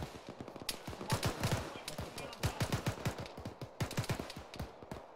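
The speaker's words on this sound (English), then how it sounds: "Definitely still hearing shots right in front of us" Gunshots during a field training exercise, a steady string of sharp cracks and short bursts from just ahead, coming in irregular clusters with faint background noise.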